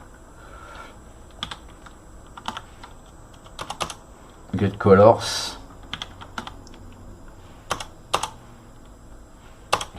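Typing on a computer keyboard while setting up Bspwm on Arch Linux, scattered sharp key clicks spread across several seconds with a brief burst of rapid keystrokes in the middle, close up, with someone speaking briefly.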